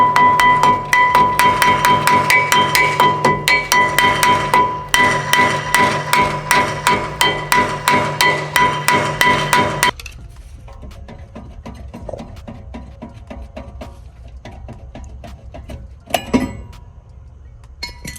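Rapid metallic hammer strikes on a stuck wheel hub ring out in a steady, dense series for about ten seconds, then give way to quieter scattered clanks and a low hum.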